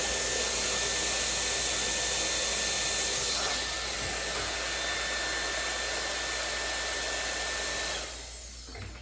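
A blow dryer roars steadily and loud at close range while hair extensions are dried, its continuous whooshing hum cutting off near the end as it switches off.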